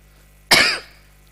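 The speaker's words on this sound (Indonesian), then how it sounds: "Batuk." A single sharp cough, close and loud, bursting out and trailing off quickly into quiet.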